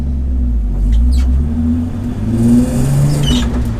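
Track-prepped Nissan Skyline R32 driving steadily up the M1 motorway, a close low engine drone with rising and falling tones as it eases through the revs, plus a few light squeaks above.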